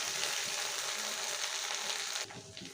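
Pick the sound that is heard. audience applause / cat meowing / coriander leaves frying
coriander leaves frying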